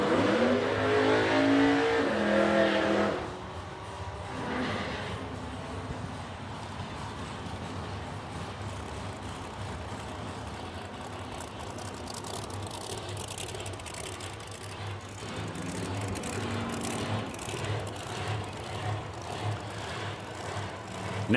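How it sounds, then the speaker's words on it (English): Drag racing cars doing burnouts at a drag strip, loud engine roar and revving at the start that drops to a sustained distant rumble, then swells again toward the end. "Next pair got the burnouts done."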